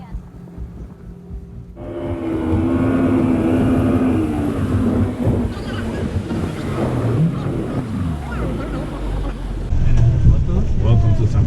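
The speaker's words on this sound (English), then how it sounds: "We made it on a boat." A boat crosses a lake in Guatemala, heading toward San Pedro. A steady engine drone runs beneath wind buffeting the microphone and rushing water, and it stays loud and continuous throughout.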